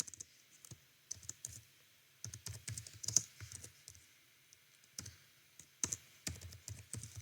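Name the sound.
typing a message on a computer keyboard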